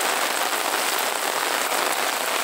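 Light rain falling in Sobral, Ceará, a steady dense patter of drops on surfaces, even and continuous with no pauses.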